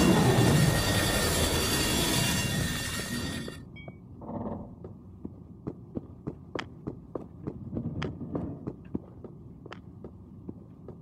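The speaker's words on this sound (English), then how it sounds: "Probably stop before we hit that train." A train passing in the video game Estranged: Act 1 gives a loud, dense rumble for the first few seconds. It then cuts off into quieter ambience with a series of sharp clicks and knocks.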